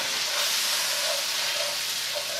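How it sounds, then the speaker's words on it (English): Garlic sizzles in melted butter in a pan, a steady soft hiss close by with no talk. "toss that garlic in the pan once the butter is melted."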